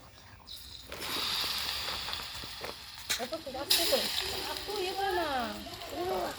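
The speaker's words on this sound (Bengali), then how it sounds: "এখন আমি আর পল্লব মিলে বড়াগুলো ভাজবো" Bora fritters being dropped into hot oil, a sizzling crackle that rises after the first second and carries on close by, with voices talking over the frying and some clatter.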